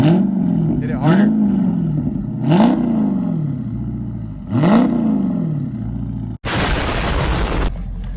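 A Dodge Scat Pack with a loud aftermarket exhaust and its valves open revs hard three times, each rev a deep roar that climbs and falls. A short burst of broadband rushing noise follows at the end.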